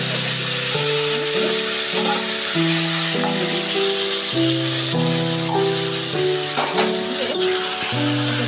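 Marinated chicken frying over garam masala and bay leaves in a pan, a steady broadband sizzle that runs the whole time beneath louder tonal background music.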